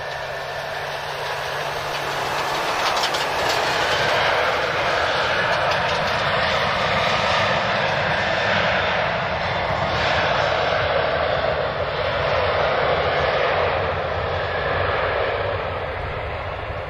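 Ryanair jet engines at Lisbon Airport, a loud, broad, continuous roar that swells and holds steady as the aircraft moves nearby.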